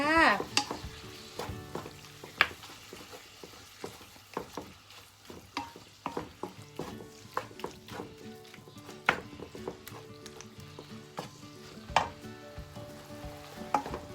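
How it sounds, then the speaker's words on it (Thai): Pork stir-fried in a pan for a jungle curry-paste dish: a steady close sizzle broken by frequent sharp scrapes and clinks of the spatula, with no talking. "ผัดให้หมูสุกๆ เด้อพี่น้องอาหารการกินน่ะ ผัดให้หมูสุกๆ จ้า"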